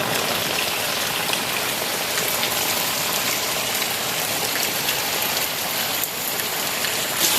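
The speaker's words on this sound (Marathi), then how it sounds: "हे बघा जबरदस्त पाऊस आहे" Heavy rain pours steadily and loudly, a dense continuous hiss of drops with no voices or pauses.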